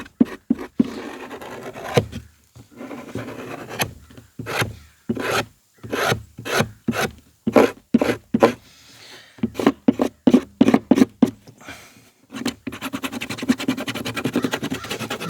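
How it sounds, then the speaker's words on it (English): A steel chisel from a forge scrapes across the rough back side of a leather strop blank in repeated short, rasping strokes, close and clear, with brief pauses and a denser run of scraping at the end. "This is just a chisel from over the forge. And I'm just gonna scrape this back side rough it up."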